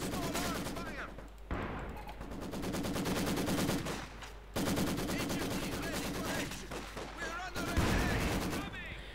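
Dense battlefield gunfire and artillery booms from a Company of Heroes 2 match, with a field gun firing amid continuous loud explosions and weapon fire, layered under a commentator talking.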